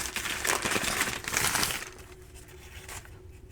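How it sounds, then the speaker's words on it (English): A toy haul package being unwrapped, giving close, loud crinkling and crackling of plastic wrapper for about two seconds before it fades to quiet rustles. "let's open this, unwrap this first."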